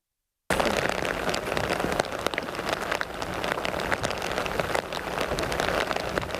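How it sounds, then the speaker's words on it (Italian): Heavy rain pours down steadily in a news report about flooding along the Sile river in the Marca Trevigiana, a dense continuous hiss with scattered louder drops and pattering hits throughout. "Pioggia scrosciante"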